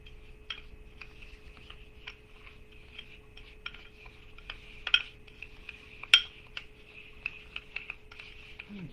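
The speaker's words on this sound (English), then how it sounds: "now I'm just going to take a spoon and stir this all together." A spoon taps and scrapes at an irregular pace in a dish of peppermint foot scrub, quiet and close, with two sharper clinks; a faint steady hum runs underneath.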